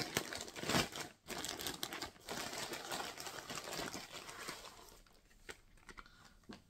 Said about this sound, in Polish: Zaraz zobaczymy sobie, otworzymy sobie tą torebkę.